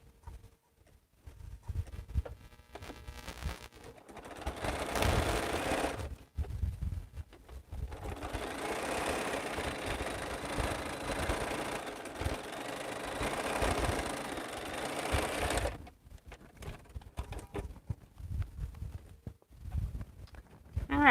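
A Bernina sewing machine runs in steady stretches while a quilt is being finished, a close mechanical whir that stops and starts with quiet gaps between runs.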